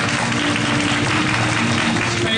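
An audience at the Thailand Franchise TFQA 2012 awards applauds Index Living Mall, a furniture and home-decor mall, with loud, even, continuous clapping filling the hall.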